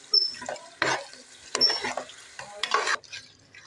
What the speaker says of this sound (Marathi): आता मी चांगलं परतून आधी घेते